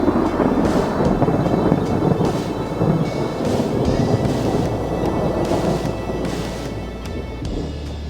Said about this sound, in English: this storm was pumping out mega bolts all around me